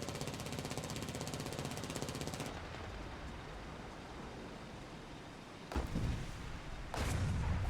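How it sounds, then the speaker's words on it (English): A tank engine idling in the War Thunder video game, heard as a steady, dense mechanical rumble that runs throughout, broken by a couple of sharper bursts and a louder surge near the end. "I can hear it's just idling."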